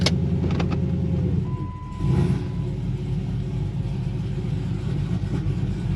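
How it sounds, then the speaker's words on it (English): A Dodge Charger Scat Pack's Hemi V8 idles with a deep, steady, lumpy, choppy rumble, close by and loud, holding a constant throb throughout. "This is what a real Hemi sounds like, not this fake electric stuff."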